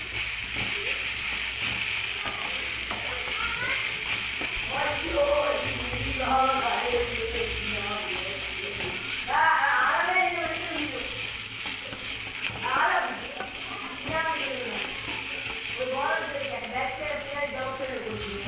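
Ground coconut paste added to a hot pan for a Kerala thoran and stirred, giving a steady sizzle and hiss with repeated scraping strokes, while someone talks over it.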